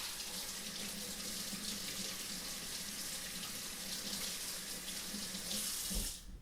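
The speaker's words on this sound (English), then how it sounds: "I rinse out my little filter." An AeroPress coffee filter is rinsed under a running kitchen tap: a steady, loud, close rush of water that cuts off abruptly near the end.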